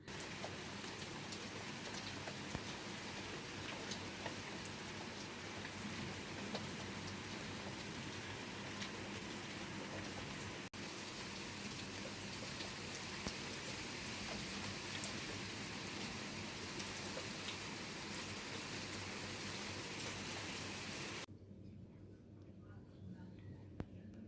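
Steady, dense rainfall hisses throughout outside a room on the road between Gangtok and Darjeeling, a constant wash of drops on surfaces, easing slightly near the very end.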